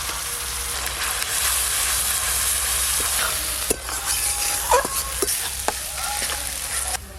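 Mustard oil sizzling loudly with onion paste and ginger-garlic paste in a pan, a steady close hiss broken by a few stirring scrapes and clinks, no talk.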